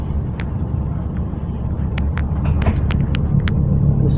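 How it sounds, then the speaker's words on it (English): An NJT 744 bus rolls up to the Paterson City Hall stop, its engine a low, steady rumble growing slightly louder as it nears, with brief hissing bursts from the brakes scattered through the approach. "Bus is pulling up to Paterson City Hall bus stop at 2:49 p.m."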